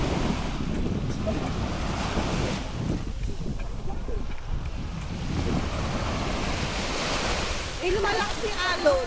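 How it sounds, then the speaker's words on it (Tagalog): Ocean surf grows stronger, rolling and swelling under steady wind buffeting the microphone, with a voice briefly audible near the end. "Lumalakas yung alon."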